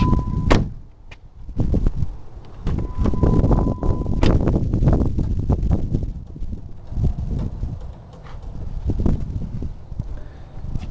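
A dented front driver door on a Jeep opens and closes, giving a few sharp latch clunks and thumps over steady outdoor background noise, with no talking.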